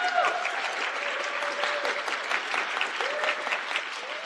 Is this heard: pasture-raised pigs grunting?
no